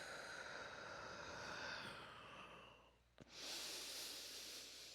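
A slow, breathy exhale during a back-arching yoga-style stretch, the soft airy rush of breath fading out, followed by a brief catch and a fresh, stronger breath sound, close and alone with no talk.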